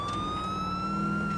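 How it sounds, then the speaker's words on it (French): A police car siren in the video game GTA IV wails steadily with a sustained rising tone, loud and continuous over low engine rumble, with no talk. "Et on va se mettre un petit peu la sirène"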